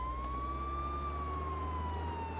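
Police car siren in the game Contraband Police, a steady wailing tone that rises and falls slowly, heard continuously and fairly faint throughout with no talking.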